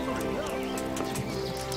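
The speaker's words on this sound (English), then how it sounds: "you'll notice there's a horse here now" Horse hooves clip-clopping in Kingdom Come: Deliverance, a steady close rhythm of hoofbeats under a talking voice and a low, tonal background.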